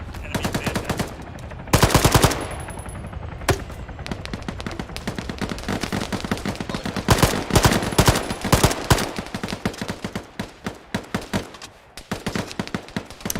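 Automatic weapon fire in the military shooter Arma, loud rapid bursts and single shots crackling almost nonstop, some close and sharp, others more distant, with a brief lull before firing picks up again.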